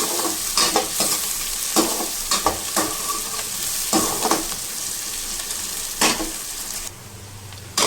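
Onions and green chillies fry in a pan with a loud continuous sizzle, broken by repeated sharp scrapes of a spoon stirring them; the sizzle drops off near the end.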